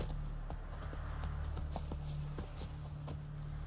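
Roach, the horse from The Witcher 3, trots with a steady clip-clop of hooves, each footfall distinct and moderately near over a low constant game ambience.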